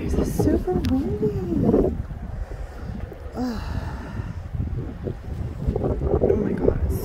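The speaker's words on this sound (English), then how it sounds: "it's super windy" Strong wind buffets the microphone in heavy, continuous low rumbles, with a few faint voices audible underneath.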